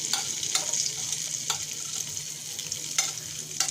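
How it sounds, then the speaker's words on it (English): Chopped garlic frying in a mix of oil and butter, a steady close sizzle with a few sharp crackling bursts spaced through, no voices. "Chopped garlic going in."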